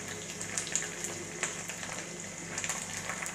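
Spinach frying in a pan with oil, a steady soft sizzle dotted with small crackles and pops, fairly quiet and close.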